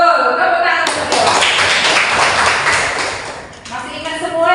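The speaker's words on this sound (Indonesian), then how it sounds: "Tepuk tangan untuk Dela." A classroom of students claps together in a short burst that fades out, with voices before and after it.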